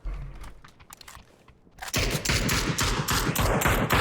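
Gunfire in a PUBG esports match: scattered, fairly quiet shots and thuds, then from about two seconds a loud, dense burst of rapid automatic fire that continues to the end.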